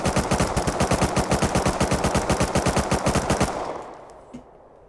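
Sustained automatic MP5 fire from the video game Rust, a rapid, evenly spaced burst of loud close shots lasting about three and a half seconds before cutting off and leaving a fading tail.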